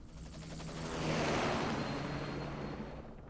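Helicopter in the video game Metal Gear Solid 5, a steady rotor drone with a broad whooshing roar that swells loudly around the middle and then eases off slightly, with no voices present.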